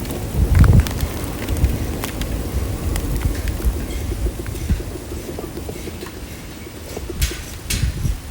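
Rain falls in a video game with a steady hiss and patter that carries on throughout, mixed with gusty, wind-like noise and a few louder low thumps, and no talking.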